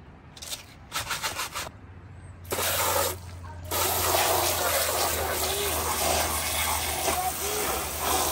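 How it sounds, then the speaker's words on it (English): Spraying water washes a muddy flag, with short bursts of hissing spray at first that give way to a steady, close rush of running water. "So I'm washing this flag because it was too muddy"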